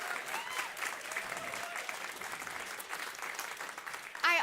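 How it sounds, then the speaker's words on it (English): A theater audience at a farmers storytelling evening applauds steadily throughout, a dense and even wash of clapping with a brief sharper burst at the very end. "Give them a round of applause."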